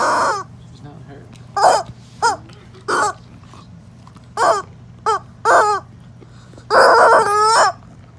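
A chicken kept as a pet clucks and crows in loud, repeated bursts, ending in a long rooster-style crow, with a faint steady hum underneath.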